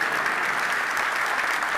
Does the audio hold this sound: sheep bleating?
no